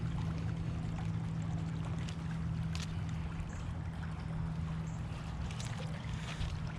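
A Dolphin Triton robotic pool cleaner running underwater, a steady muffled hum and churning water wash with a constant low drone, no voices.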